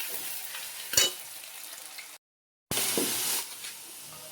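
Potatoes fry in hot oil in a pan, producing a loud, close sizzle with stirring scrapes and a sharp clatter, interrupted by a brief silent gap before the hissing resumes.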